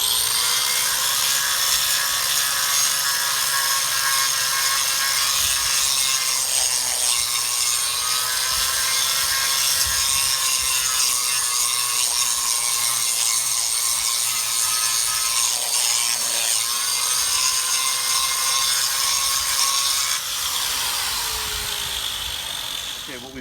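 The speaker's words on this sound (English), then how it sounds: "Okay, what we've got is we've got the rust ground down. I ground it down about a 1/16 of an inch." An angle grinder works rust out of a concrete seawall, a loud, continuous harsh grinding with shifting pitch that runs nearly the whole time, close up and unbroken before tapering at the end.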